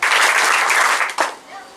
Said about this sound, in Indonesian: Kalau kakak bilang selamat pagi, tepuk 1 kali. Selamat siang 2 kali.